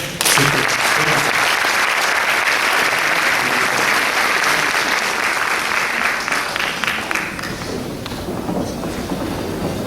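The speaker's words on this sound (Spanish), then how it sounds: "Un aplauso, por favor." A concert audience at a Paraguayan harp celebration, Día del Arpa Paraguaya 2014, breaks into loud, sustained applause that fills the whole stretch, easing off slightly toward the end.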